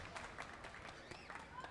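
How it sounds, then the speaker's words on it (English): Crowd at a minor league baseball game between the Laredo Lemurs and St. Paul Saints clapping in the stands, a steady patter of many hands heard from a distance under the ballpark's ambient noise. "Everyone clapping their hands at the ballpark here."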